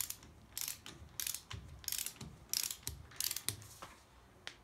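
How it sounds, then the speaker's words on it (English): A ratchet torquing down a front axle flange held by a locking bar, giving a series of sharp metallic clicking bursts in an uneven rhythm, close and fairly quiet, with no talk. "we can torque that down"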